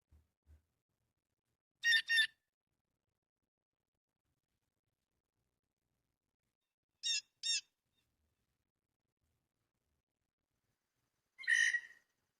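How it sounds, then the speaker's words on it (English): A blue jay calls in three separate bursts, each a pair of harsh, high-pitched squawks spaced seconds apart against near silence, clear and moderately close with no other sound between calls. "Is it blue jay?"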